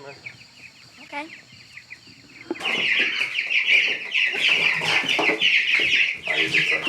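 Young two-week-old chicks cheeping and peeping loudly in a dense, continuous chorus as they are moved out of a house, close to the microphone, after a quieter stretch with faint talking.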